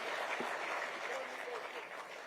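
A crowd at a political key-distribution event for a chawl redevelopment applauds in a fairly faint, continuous wash of clapping that tapers slightly toward the end.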